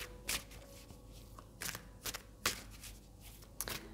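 Tarot cards being shuffled and drawn, with soft papery riffles and brief slaps coming in several quiet bursts, close by with no talk.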